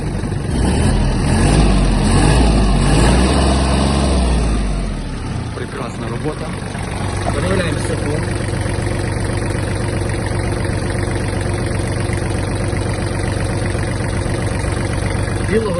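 A Kubota T-240 mini tractor engine roars loudly for a few seconds, then drops back to a steady idle rumble, with people talking over it.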